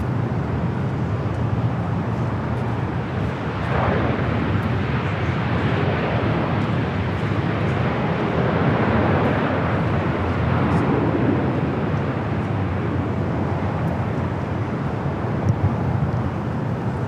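Steady roar of an Allegiant Air Airbus A320 airliner on arrival at LAX, a broad, continuous jet rumble that holds at an even loudness throughout, with no clear rise or fall.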